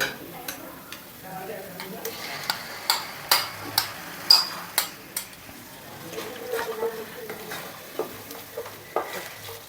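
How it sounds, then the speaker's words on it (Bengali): Chicken rezala with yogurt sautéing in a pan, restaurant style: a soft background sizzle broken by a regular series of sharp ladle taps and scrapes against the pot as it is stirred. "চার পাঁচ মিনিট কষিয়ে নিচ্ছে এর মধ্যে বাকি দইটা এবার আমরা দিয়ে দেবো দিয়ে দু তিন মিনিট আর কষিয়ে নেবো"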